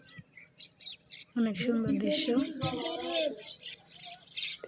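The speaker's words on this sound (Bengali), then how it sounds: "দেখেন কি সুন্দর পাখির শব্দ" Birds squawk and chirp along a village riverbank, with scattered calls near and a burst of harsher squawking midway, while someone speaks briefly over them.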